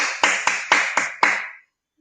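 Six sharp, close claps land in a steady, even rhythm, each ringing briefly, before clean silence.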